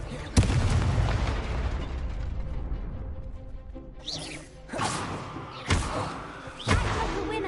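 Several Confringo fire spells blast in Hogwarts Legacy, a heavy explosive impact followed by a series of sharp, punchy bursts spaced about a second apart, loud and close.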